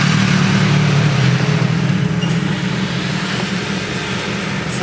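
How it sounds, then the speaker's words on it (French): Motorcycles carrying a group of Dutch riders heading off on holiday rumble past at moderate distance, a steady low engine drone that fades slightly as they ride away. "il y a des potes motards hollandais là qui partent en vacances en moto"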